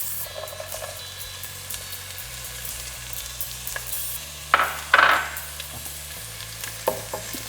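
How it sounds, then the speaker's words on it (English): Onions frying in a pan with chopped ginger and garlic, a steady sizzle with occasional stirring scrapes and a couple of louder clanks of a spatula against the pan. "I'm just going to be adding the onions into this."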